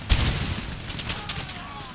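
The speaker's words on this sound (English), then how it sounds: "Firing, lads. Keep firing." Musket volley fire from line infantry in Empire: Total War, a dense crackle of shots and booms starting with a sharp near blast, rolling on with distant gunfire and battle noise, with speech in the mix.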